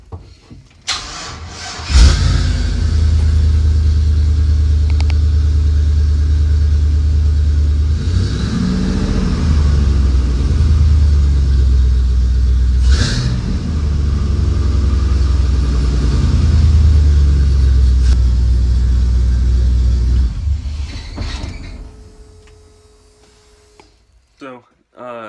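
An LS-swapped V8 in a cold shop cranks and catches, then runs at a loud, close, rumbling idle with a couple of revs before shutting off near the end.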